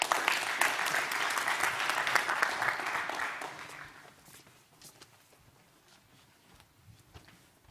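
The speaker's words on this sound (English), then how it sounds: "So please give a big round of applause for Brands with F 2020." Audience applause at a TEDx climate conference, a full hall clapping loudly for about four seconds before thinning out into scattered claps.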